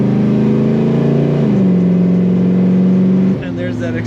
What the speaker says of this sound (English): That acceleration sound.